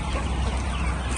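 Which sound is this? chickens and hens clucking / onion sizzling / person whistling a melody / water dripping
chickens and hens clucking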